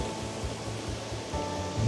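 Waterfall at Linn Park in Glasgow, a steady broadband rushing roar of falling water, even and continuous with no voices.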